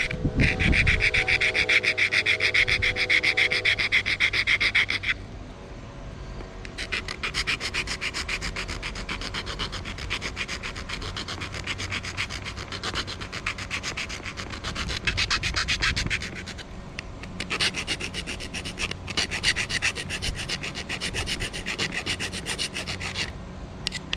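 Thin aluminum for a Redcat Kaiju RC truck's rear body mount is worked by hand, giving steady, close rasping strokes in long bursts with a short quieter pause between them.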